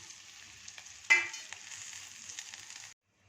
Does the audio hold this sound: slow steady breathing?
no